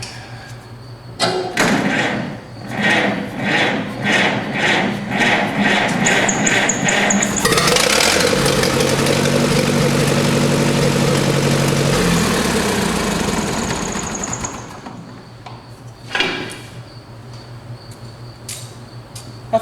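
A 1948 Silver King Model 42 tractor engine, undergoing restoration, runs loudly up close: uneven chugging and thumping at first, then a sustained roaring stretch for several seconds before dropping back to rougher idling.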